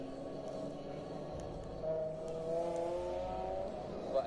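A car engine fitted with an HKS exhaust accelerates in a video game, its tone climbing through the gears at moderate volume.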